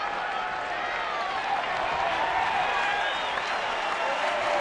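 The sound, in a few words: stadium crowd applauding a baseball player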